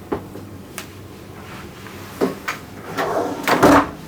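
A drawer in a cruise ship balcony cabin slides open and shuts, a few sharp wooden knocks and rolling scrapes close by, ending in a louder rattling slide, with no voices.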